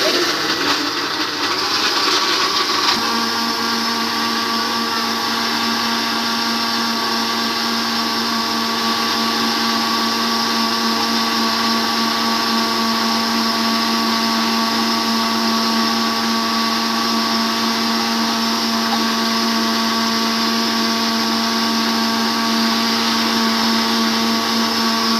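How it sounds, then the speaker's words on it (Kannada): A kitchen mixer grinder blends juice with a loud, continuous motor whine and a steady droning hum, running close by without pause after a brief rough start. "ಇದನ್ನ ಇವಾಗ ನಾನು ಮಿಕ್ಸಿ ಮೇಲೆ ಇಟ್ಕೊಂಡು ಆನ್ ಮಾಡ್ಕೊಂಡು"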